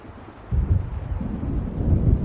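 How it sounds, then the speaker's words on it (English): Low, rolling thunder of an approaching storm over open water in the game Alan Wake, a deep rumble that starts abruptly, swells and lingers for a couple of seconds, fairly loud and without speech. "It seems there's a storm coming."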